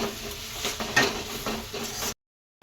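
Ginger, garlic and cinnamon fry in a pan for a mutton dish, giving a steady close sizzle with scraping stirs, then it cuts to silence near the end.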